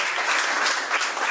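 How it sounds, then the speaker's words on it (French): A crowd at a Rotary Club job-training event in Martinique applauds, a dense, steady wash of clapping held at an even loudness throughout. "que je vous demande d'applaudir."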